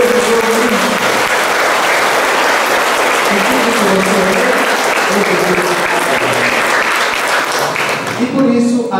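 Church congregation applauding steadily and loudly throughout a Catholic tithing moment, with a voice speaking faintly under the clapping and a brief lull near the end.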